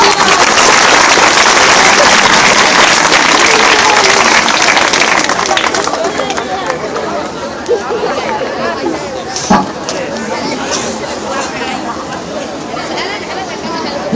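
An audience at a stage event with teachers and educators gives loud, thunderous applause that fades into mixed clapping and crowd chatter, with a sharp thump partway through.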